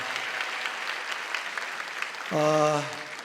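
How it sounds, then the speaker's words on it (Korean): A church congregation applauds young worship performers with a steady burst of clapping that fills the room, followed near the end by a short sustained musical tone as the clapping fades. "우리 청년들 한번 좀 격려의 박수 한번 보내주시면 바라겠습니다."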